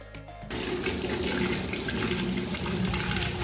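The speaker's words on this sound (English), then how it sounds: "already starting to empty the tank of the oyster larvae" Water drains from an oyster larvae culture tank in a hatchery, a loud, steady rushing gush that starts abruptly after a brief pause and continues alone.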